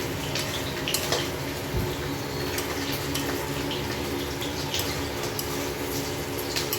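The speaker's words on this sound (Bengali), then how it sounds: "খুন্তিটা নাড়িয়ে মিক্স করে নিতে হবে" A spatula stirs poppy-seed catfish curry (singhi macher jhol) in a pan, making a steady wet scraping with scattered small clinks, close and fairly quiet, with no one talking.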